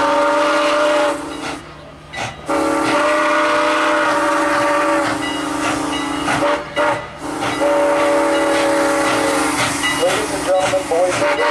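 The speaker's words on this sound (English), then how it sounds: "Train number 120, the London Place Limited, is now arriving on track number 2." A Thomas-themed steam train arrives at the Strasburg Rail Road station, its loud steam whistle blowing in long repeated blasts over rumbling railcars, with people talking nearby.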